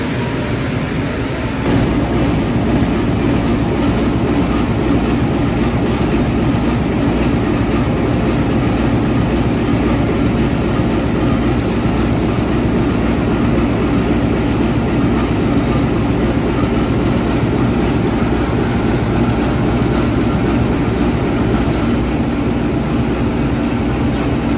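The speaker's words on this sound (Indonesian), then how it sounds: "ini perdana saya naik kereta api dengan lokomotif livery vintage" Continuous rumble and rattle from aboard the Kaligung passenger train, hauled by a vintage-livery locomotive from Semarang toward Jakarta, steady and loud throughout.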